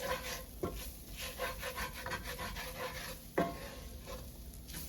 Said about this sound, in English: you stir it in for about a minute to really kind of get rid of that flour taste